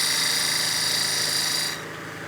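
A skew chisel slices across end grain of a spinning wooden block on a lathe, giving a steady, loud, hissing shear over the motor drone that cuts off abruptly near the end, leaving the lathe running alone.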